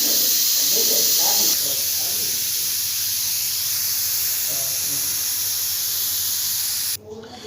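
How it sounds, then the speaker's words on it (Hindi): A pressure cooker with kaddu gosht (pumpkin with meat) vents steam after its weight is removed, giving a loud, continuous hiss that eases slightly partway and then drops sharply near the end. "अब चूल्हा बंद करके इसका वेट उतार दिया और इसकी गैस खारिज करके इसे खोलेंगे"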